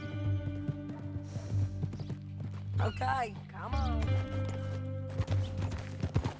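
Steady hoof clip-clops of a horse walking in the video game Red Dead Redemption 2, rhythmic and close, with someone speaking briefly over them and a short whinny-like sound mid-clip.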